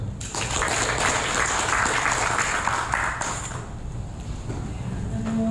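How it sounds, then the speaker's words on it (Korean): An audience at a Korean aviation security equipment forum applauds to welcome a government official to the podium, a steady wash of clapping that swells, holds for about three seconds, then fades into room noise. "한번 박수로 환영하도록 하겠습니다"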